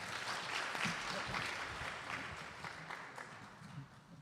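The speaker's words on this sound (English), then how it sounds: "Please give them another round of applause" An audience at a birthday celebration during a Friday night satsang claps, a soft, fairly distant spread of many hands that carries on evenly for a few seconds and tapers slightly.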